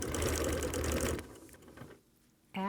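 A sewing machine stitches a quilt in a quick, close run of rattling needle strokes lasting about a second, then slows and falls quiet before a brief sound at the end.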